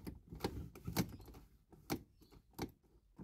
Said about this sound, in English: park position sensor. You can hear it clicking.